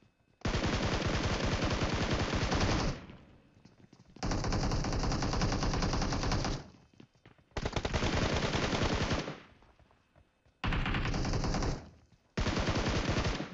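Automatic gunfire in a battle royale video game with two teams attacking a compound, rapid sustained bursts of a few seconds each separated by short pauses, loud and close, with no talk.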